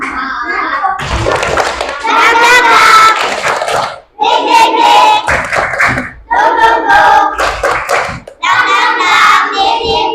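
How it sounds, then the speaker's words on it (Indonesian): Children in a classroom clap hands together in loud, rhythmic bursts separated by short pauses, with kids' voices chanting along between and over the clapping. "tepuk tangan"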